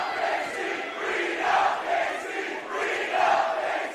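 A packed wrestling crowd at a women's deathmatch in the carousel room roars in loud, rhythmic dueling chants, two sides alternating in waves of massed voices.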